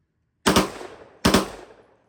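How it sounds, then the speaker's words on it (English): A rifle fitted with a cheap binary trigger fires two loud, close gunshots about three quarters of a second apart, each a sharp crack followed by a short echoing decay. "I shot it, let go, and then shot again."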